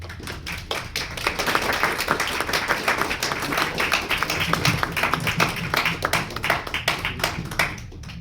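Audience at a book presentation in a national arts library breaks into applause, close, dense clapping from a modest crowd with distinct individual hand claps, building and holding steadily before easing toward the end.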